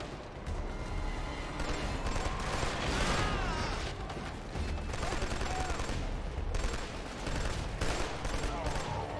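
Gunfire from a gun in the shooter game Killzone 2 comes in loud rapid bursts with short pauses between them, mixed with mechanical clatter and in-game effects.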